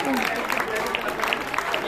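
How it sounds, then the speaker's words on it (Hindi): Children at a Mother's Day event at Haryana Senior Secondary School, Narnaul, are greeted by a dense burst of crowd clapping on the school grounds, with voices mixed into the applause. "एक बार जोर ताली से स्वागत है बच्चों के लिए।"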